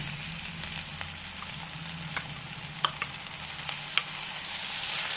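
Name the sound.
stir-frying mint paste in pan for pulao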